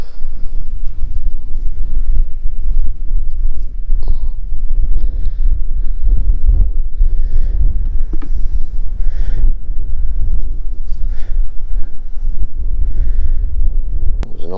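Wind buffets an outdoor microphone in heavy, continuous low rumbling gusts while out mushroom hunting, loud and steady throughout with no talk.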